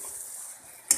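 Chicken with tomato, yogurt and butter being stirred in a pan gives a steady soft sizzle and scrape for a second, ending in a sharper clack of the spoon.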